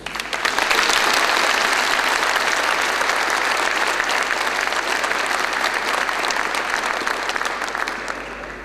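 Sustained applause from a graduation ceremony audience honouring new graduates, dense and loud from the start, holding steady before tapering slightly at the end.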